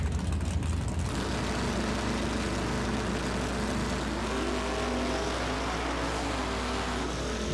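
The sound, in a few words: drag race cars, 1978 El Camino and 1979 Camaro, launching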